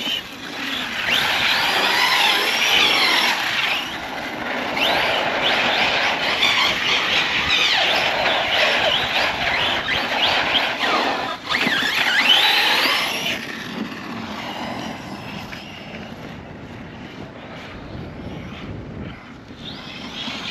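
An Arrma Big Rock RC monster truck fitted with a Max6 ESC and running on 6S power drives past with a loud, continuous electric motor whine and rushing drive noise that swells and fades over about twenty seconds.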